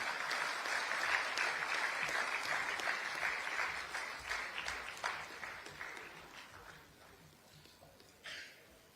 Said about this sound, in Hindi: आप सभी से गुजारिश कि जोरदार तालियां आप इस वक्त बजाएं